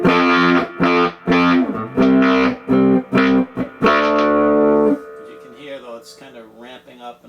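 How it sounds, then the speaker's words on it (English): Electric guitar played through a RAW Squid distortion pedal prototype, loud overdriven chords struck in a rhythmic run of stabs, then lighter, cleaner single notes ringing out more quietly. "you get that nice overdriven clean sound, and then when you really dig in, especially on the chords, you get the more fuzzier thing"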